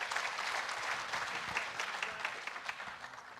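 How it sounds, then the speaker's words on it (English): Audience at an entrepreneurship fair applauds a speaker, a steady dense wash of clapping throughout that eases slightly toward the end, with no voices over it. "Just give him a round of applause again"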